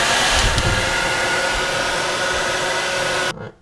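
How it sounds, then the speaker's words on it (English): A handheld hair dryer blows steadily, close and loud, drying airbrushed paint on a crawfish crankbait lure, then cuts off abruptly near the end. "I'll get my hair dryer, put it on there for about 10-15 seconds just to"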